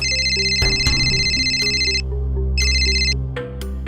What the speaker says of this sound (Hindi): सर, चौहान जी का फोन है।